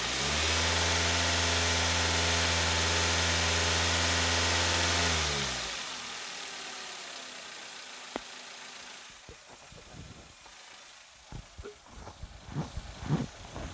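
A Daihatsu Xenia engine, repaired after a rough-running fault and fitted with a replaced lower pulley that had a hairline crack, holds a loud, steady high rev for several seconds. It then drops away to a quieter idle with scattered mechanical clicks.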